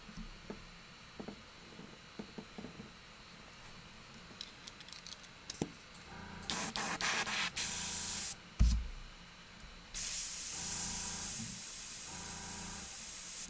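Airbrush spraying while its exposed needle tip is cleaned, in short hissing bursts that grow into long steady jets, with light clicks and handling noises early on and a brief thump midway.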